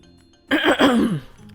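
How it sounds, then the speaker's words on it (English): A single, close throat clearing, a short raspy rumble lasting under a second against a quiet background. "turned to you, clearing his throat"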